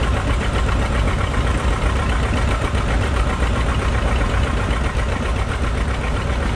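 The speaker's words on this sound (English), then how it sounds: "Watch closely the exhaust pipe on this tractor, the muffler, when this tractor starts." A tractor engine runs steadily and loudly at a farm equipment auction, a constant rumbling drone with no distinct start, close by and with no voices.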